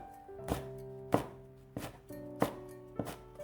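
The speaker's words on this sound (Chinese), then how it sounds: "几个小米辣切成圈" A knife chops fresh bird's eye chilies into rings on a cutting board, with five firm, evenly paced thunks, close and clear, with no talking.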